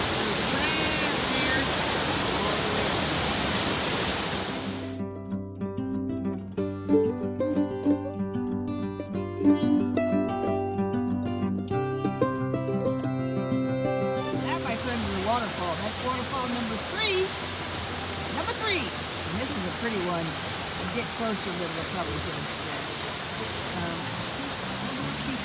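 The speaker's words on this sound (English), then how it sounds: "Finally found the big waterfall." The big waterfall at Lake Jocassee, South Carolina roars as a loud, steady broadband rush, broken mid-way by a stretch of music before the water noise returns.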